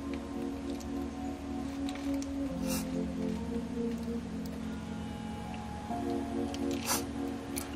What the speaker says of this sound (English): I'm gonna go ahead and pour it into my ice cube tray.